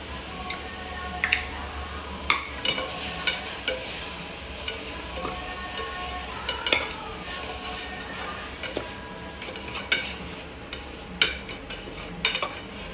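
Ginger-garlic paste stir-fried in a pan for goat bone soup, a steady close sizzle with scattered crackles, pops and scraping stirs, no talking.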